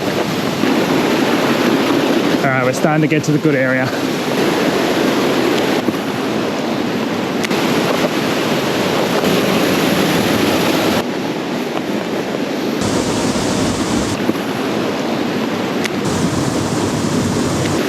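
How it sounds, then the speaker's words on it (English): Creek water in the Cairns rainforest rushes in a constant, loud broadband wash, close to the microphone, with someone speaking briefly over it. "All right, so this is the creek."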